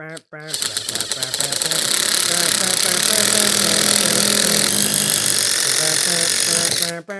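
A Dewalt impact driver fitted with a PVC/PEX accessory runs in one steady, loud rattling hammering burst for several seconds, close to the microphone, then stops abruptly.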